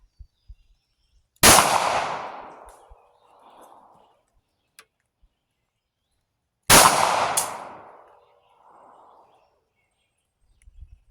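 Two sharp pistol shots from a Palmetto State Dagger, each followed by a ringing decay and a faint metallic ping from a steel target about a second later, spaced roughly five seconds apart outdoors with near silence between.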